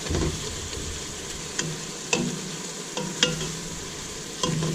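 Diced green peppers and onions sizzle steadily in a pan for cheeseburger soup, with a continuous frying hiss and a few clear scraping clacks as they are stirred.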